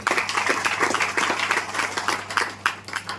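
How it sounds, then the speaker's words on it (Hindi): A crowd at a health awareness program claps in a steady, dense round of applause that continues loudly from start to finish. "तो एक बार जोरदार ताली बजाइए अपने लिए"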